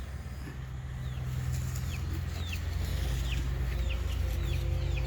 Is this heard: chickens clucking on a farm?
yes